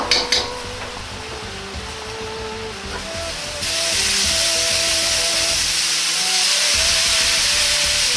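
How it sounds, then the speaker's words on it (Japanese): Ginger stir-fried in a pan flares into a loud, steady sizzle when a spoonful of Shaoxing wine is poured in, a hiss that swells partway through and carries to the end with no voices. "生姜のいい香りがしてきたら、紹興酒または酒を大さじ1入れます。"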